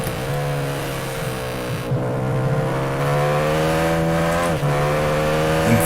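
A 500cc three-cylinder MV Agusta 500 Three racing motorcycle howls at full throttle on the Isle of Man TT road course, a loud, sustained high-revving note that climbs steadily, briefly dips with a gear change, and carries on without talk.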